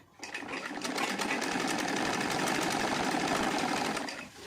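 An electric sewing machine stitches the armhole of an old heavy silk saree, a fast, steady whirring rattle that starts abruptly, runs evenly for about four seconds close by, then winds down.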